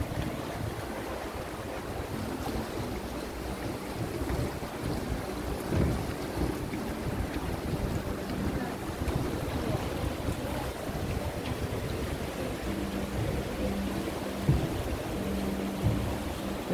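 Broad, steady rushing noise of the Sakhasaut mountain river in the northern Elbrus foothills, Russia, fills the clip, with gusty low rumbles and no voices.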